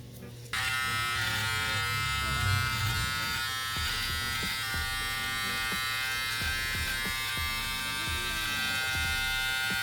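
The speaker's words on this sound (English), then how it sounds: "for the shaver" An electric shaver switches on and hums steadily during a burst fade haircut with shear work, a close, constant buzz that runs throughout with faint clicks as it moves along the hair.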